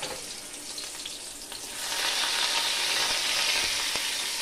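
Chopped onion goes into hot white oil and fries, a bright, steady hiss that swells louder partway through and keeps sizzling, with a couple of faint knocks in the pan.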